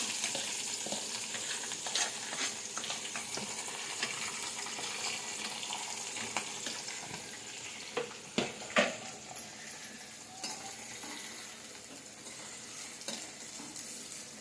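Chopped onion fries in a pan for an egg fry, a steady crackling sizzle with occasional sharp spits and the clink of a utensil, heard close and alone.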